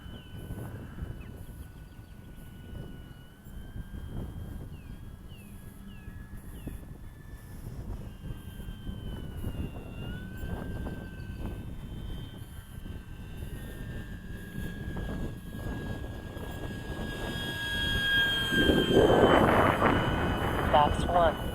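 An FMS Beaver RC model airplane passes in a full-flap flyby, its steady engine drone holding throughout and swelling louder near the end as it comes close, with a voice speaking briefly over it.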